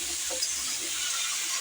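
Pumpkin and garlic frying in a wok, a soft steady hiss of sizzling oil with faint stirring, brief and fairly quiet.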